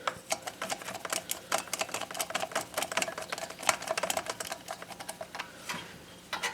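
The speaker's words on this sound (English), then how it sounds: "the nut driver works good to run the screws in" A nut driver runs screws into a replacement coil and magneto on a 14.5 HP OHV Briggs & Stratton engine, giving a rapid rattling series of close ticks and clicks in uneven bursts, with no talking.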